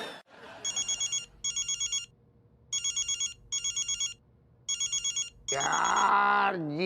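A telephone rings in five short double bursts of electronic trilling, with quiet pauses between, followed by a loud rush of voices and noise.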